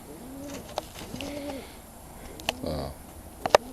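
A young crossbred pigeon, Owl crossed with Uzbekistan Tumbler, gives soft, low rolling coos several times at close range over a quiet background, with a few sharp clicks and taps near the end.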